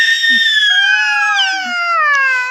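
A little girl screaming and crying in a loud, high, wavering wail that holds for over two seconds and drops in pitch toward the end.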